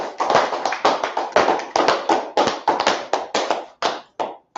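An audience claps for a class in a hall, steady close applause of many hands in fast uneven bursts that thins toward the end, with no voices over it.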